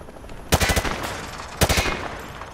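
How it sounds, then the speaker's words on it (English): Two quick bursts of M4 rifle fire at targets in Call of Duty: Modern Warfare 2, each a rapid string of sharp, loud shots separated by about a second of quieter game ambience. "Grab that weapon off the table and fire at the targets behind you."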